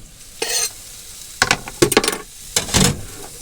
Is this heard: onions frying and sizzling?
yes